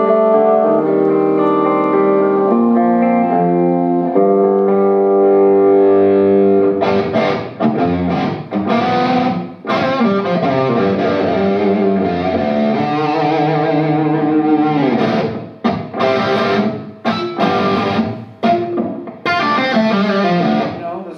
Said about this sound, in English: there's like you get those kind of crunchy tones,